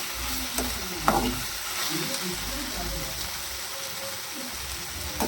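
Okra sizzles in a pan while being stirred, a dense crackling hiss with scraping strokes and thuds, and a faint voice murmuring in the background.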